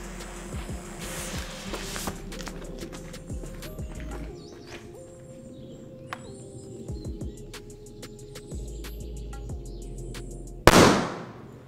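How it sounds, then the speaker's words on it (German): A Super Zeus Alba firecracker with a striking-head fuse goes off wedged tightly into a hole in a carpet, a single loud sharp bang near the end after a stretch of clattering, handling and ambient noise. "Wir stecken den nächsten Böller rein. Super Zeus Alba."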